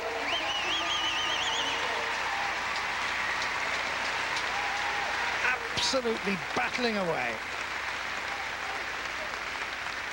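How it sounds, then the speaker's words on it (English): A gymnastics arena crowd at the 2002 Commonwealth Games applauds gymnast Steve Frew with a steady wash of distant clapping, while a commentator talks over it. "Can we give him a big round of applause?"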